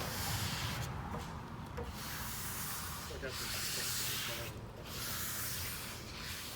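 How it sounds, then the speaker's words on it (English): A quiet sander works across an epoxy resin and wood table with a steady, soft rubbing hiss. Short pauses break the pass. "Super quiet sander."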